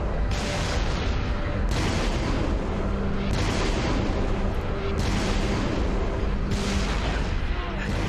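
Heavy, booming weapon fire in Halo: Reach, continuous and loud with repeated blasts at roughly one-second intervals, with a voice talking underneath.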